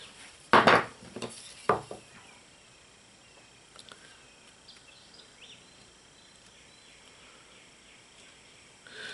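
A sharp-tipped knife cutting into wood during hand carving: two crisp, loud scraping cuts up front, then faint, sparse clicks over a quiet room hiss.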